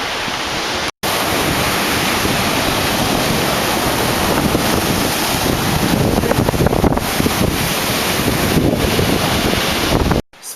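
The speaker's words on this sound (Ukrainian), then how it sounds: "Сьогодні над морем хмари білі барашки утворюють чарівну піну морського прибою." Sea surf rolls and breaks steadily along the shore at Miskhor in Crimea, a loud, continuous wash of waves mixed with wind buffeting the microphone, briefly cut off near the start and at the end.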